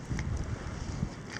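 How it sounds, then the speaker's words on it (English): Blizzard wind from Winter Storm Stella in a New York nor'easter buffets the microphone in a brief, low, rumbling rush that stays fairly faint and steady. "with blizzards, you have wind gusts up to like 35, 40 miles per hour"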